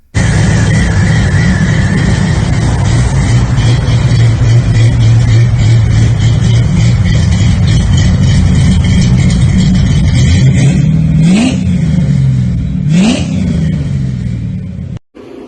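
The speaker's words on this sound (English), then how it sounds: "It's a 95 Mustang GT 50 5-speed car." A 1995 Ford Mustang GT with a 5.0 V8 and five-speed manual revs up close and loud, holding a steady roar before two sharp blips near the end, with no talk.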